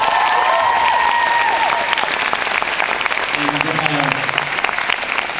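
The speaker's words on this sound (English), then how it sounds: "So give them a big round of applause." Audience applause at a film premiere Q&A, a dense steady clapping that fills the room, with a voice speaking briefly under it midway as the ovation carries on.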